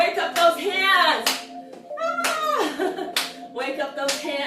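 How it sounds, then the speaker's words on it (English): A group in a community aerobics class claps along in bursts of sharp, rhythmic hand claps, fairly close, punctuating an instructor's voice and music that run throughout. "Just join in, clap it out."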